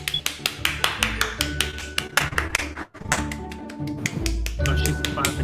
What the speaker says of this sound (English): Oh, she's clapping.